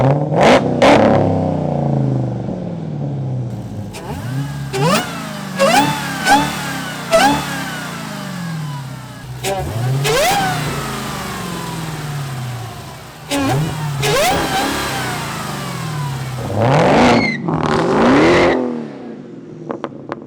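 A 2018 Dodge SRT Demon Challenger's supercharged V8 fires up close by, then settles into a rumbling idle broken by a series of sharp revs that rise and fall, with a final hard rev near the end.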